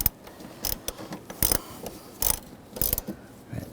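A hand ratchet clicks in short irregular bursts while tightening seat bolts inside a 2021-2023 Jeep Grand Cherokee L, sharp close ratcheting with pauses between strokes.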